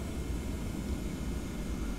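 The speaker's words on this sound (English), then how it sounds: "So the plane's pretty easy to taxi." Steady low rumble of a TFDi Design 717-200 airliner's engines while taxiing in a flight simulator game, a continuous even drone with no speech.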